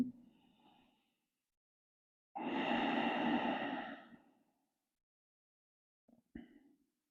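During a forward-bend stretching exercise, a person breathes deeply: a soft breath at first, then a long, full, audible exhale lasting about two seconds, and a brief, quieter breath at the end, all close and without talk.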